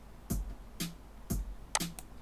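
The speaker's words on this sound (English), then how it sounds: "Let's put a snare there, let's put a kick there, let's put a snare there, and we can have a closed hi-hat here on every 4th." Sparse programmed drum beat built in Ableton Live 11 Lite, with kick, snare and closed hi-hat ticking in a slow, quiet pattern of four soft hits, each a short thud with a crisp top, and no voices.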